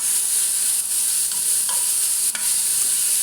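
Carrots being stirred into rice in a hot pan make a loud, close, continuous sizzle with occasional scraping strokes and a sharp utensil tap partway through, with nobody speaking.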